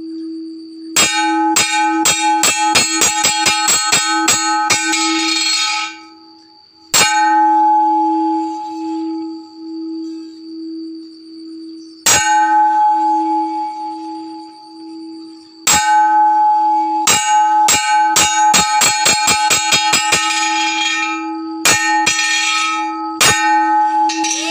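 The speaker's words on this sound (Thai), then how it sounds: "สามเณรกำลังตีระฆังครับ" Novice monks strike a large temple bell in Luang Prabang, producing loud, resonant clangs in rapid accelerating volleys that ring out, pause, then repeat, with long sustained hum between strikes and no talking.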